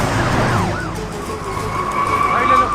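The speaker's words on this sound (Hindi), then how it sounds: "पुलिस की गाड़ी आ रही है" A wailing police car siren rises and falls over engine and road noise as the vehicle approaches, loud and continuous, with its sweeping tone settling into a steadier whine near the end.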